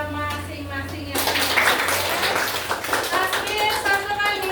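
Children and adults applaud together at a school gathering with an ustazah, a burst of dense, even hand clapping after a moment of quiet, holding steady to the end.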